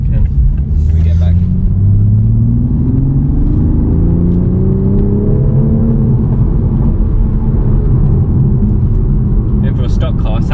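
A new, stock Toyota Supra accelerates through the gears while driving, its engine note climbing in smooth rising sweeps under cabin rumble, with people talking briefly at the start and the end.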